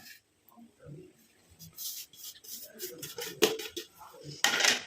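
Dry mustard powder and fried onion peel powder are stirred together with a spoon in a small bowl, producing soft scraping and light clinks that grow louder toward the end, with sharp taps near the close.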